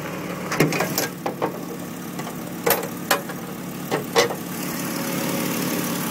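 2006 Jeep Wrangler Sport mail truck engine idling steadily, a low continuous rumble with a few soft clunks and taps over it, no talk.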